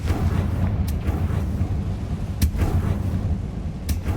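Confringo fire spell from Hogwarts Legacy: dense rumbling blasts and crackling game action throughout, with a few sharp bursts standing out, loud and close.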